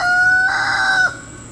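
A rooster crows once nearby in a garden, a loud clear call rising then cutting off, heard alone without talk.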